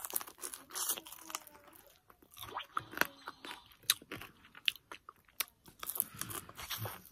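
Crunchy fried dried fish (daing) bitten and chewed up close, with repeated sharp crunches and brittle crackles in an irregular rhythm and no talking.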